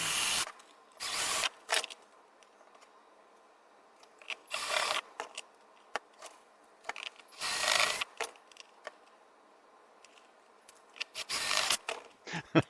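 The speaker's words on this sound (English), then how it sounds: "I'll measure that a couple times and drill it once hopefully" A drill bores holes into a plastic project box for a DIY kayak remote-control power setup, with several short bursts of close, shrill whirring separated by quiet pauses and small handling clicks.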